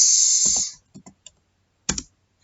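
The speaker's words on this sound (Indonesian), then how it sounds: "kita ketikkan lagi interface" Someone types a router interface command on a computer keyboard while setting up a network: a few quick clusters of crisp, close key clicks with short pauses between them.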